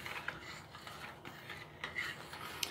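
Two packets of Numanna sweet habanero chili with pineapple get stirred into a pot of boiling water, making a steady close scraping and swishing with a few sharp spoon clinks against the pot, and no talking.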